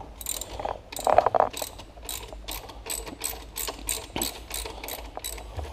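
A hand ratchet loosens a bolt on a Yamaha YFZ 450 ATV during a front bearing replacement, giving a close run of quick, even metallic clicks in repeated strokes with no talk.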